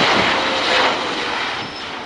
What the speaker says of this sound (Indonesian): yang ini kapal terbang